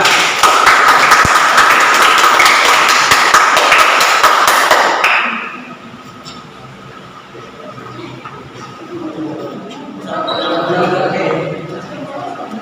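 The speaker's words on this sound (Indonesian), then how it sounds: "tepuk tangan untuk kelompok 2" A classroom group gives a loud, dense round of clapping for student group 2 during a local history lesson. It lasts about five seconds, stops abruptly, and is followed by a voice speaking.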